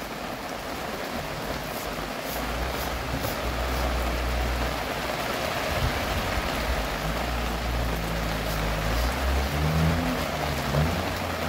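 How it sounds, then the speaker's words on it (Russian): Rain falls outdoors during a shave, giving a steady soft patter with a low background rumble. It stays continuous and moderately loud throughout, with no talking. "Не знаю, насколько вам слышен дождь."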